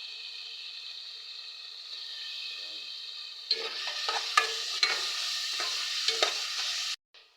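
Ground meat and shrimp paste sauté in a hot pan with a steady sizzle, then a run of scraping, clattering stirs joins in before the sound cuts off abruptly near the end.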